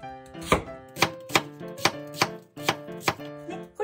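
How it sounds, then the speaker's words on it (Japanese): A kitchen knife, held at an angle, slices a new-season onion on a cutting board with about eight crisp, evenly spaced chops, close and clear, with no talking. "ちょっとこう包丁を斜めにしながらこう切ってください"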